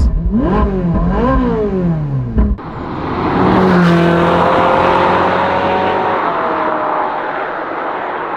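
A high-revving Ferrari 458 engine screams through rising and falling pitches, then roars past loudly with a long fading whine.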